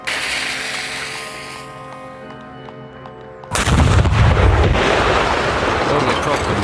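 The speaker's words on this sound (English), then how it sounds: "I'd loaded it with a blank shot so all that was left was to light the fuse" An 18th century cannon firing a blank shot: a sudden loud boom cuts through a quieter tonal background and then rolls into a long, dense rumble that fills the rest of the moment.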